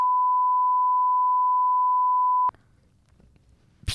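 A censor beep in a French-language talk show episode: one steady, loud electronic tone held for about two and a half seconds, cutting off abruptly into quiet background murmur before a short burst of noise.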